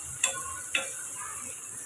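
Tomato and grated carrot with salt sauté in a pan for a ragi recipe, giving a soft, steady sizzle broken by two short scraping stirs of a spoon.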